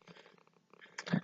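A young white cat purrs softly while tucked in its box, a faint low rumble rising into a louder, closer burst near the end.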